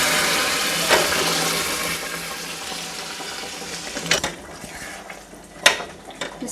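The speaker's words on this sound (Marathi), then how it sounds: "आता हे बॉईल केलेलं चिकन याच्यामध्ये घालून घ्यायचं" Boiled chicken pieces go into a pan of roasted masala, giving a steady sizzle and hiss with a few louder clattering knocks toward the end as the pieces land and shift.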